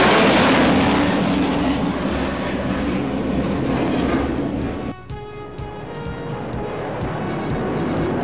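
Mirage fighter jets make a low-altitude bombing run against a simulated runway at a Pakistan Air Force firepower demonstration: a loud, close, continuous jet roar that dips briefly midway and then swells again.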